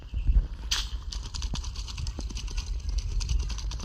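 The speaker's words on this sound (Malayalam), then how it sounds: "പിന്നെ കുതിരപ്പുറത്ത് സവാരി." Horse hooves clip-clop in a steady rhythm while riding in the video game CrisisX, mid-level and close, with game ambience and occasional light thuds underneath.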